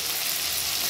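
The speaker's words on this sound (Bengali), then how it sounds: "চিংড়ে মাছ ভাজতে গেলে না ফেনাতে দেখা যায় না" Prawns fry in foaming oil, giving a steady, dense sizzling hiss close by with no pauses.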